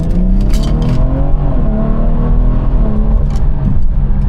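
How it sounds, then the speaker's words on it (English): A car is driven hard in a test pull, its engine loud and close, rising in pitch through the gears, with audible shift points and rough engine harmonics throughout and no talking. "we got to do a pull to make sure the car still drives the same"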